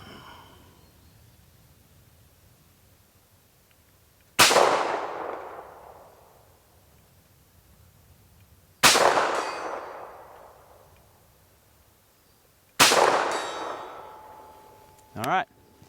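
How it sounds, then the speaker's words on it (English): Three sharp, loud shots from a SAR B6 pistol fired at 100 yards on a shooting range, evenly spaced a few seconds apart, each with a long echoing decay, followed by a brief clank at the end. "We're going to go ahead and take a couple shots at 100 yards and see how it does"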